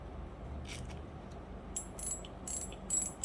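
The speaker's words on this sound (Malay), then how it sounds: "Bunyi clicker bila kita ikat drag." Drag clicker of a Seahawk Lite Pro SW spinning fishing reel ratchets in short bursts of quick clicks over a steady low background hum, fairly close.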